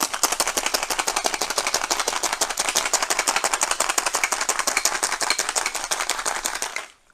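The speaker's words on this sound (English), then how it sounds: "So shake that up." Ice cubes rattling hard inside a cocktail shaker as an alcohol-free mocktail is shaken, a fast, even, loud rhythm of clattering that runs steadily for about seven seconds, then stops abruptly.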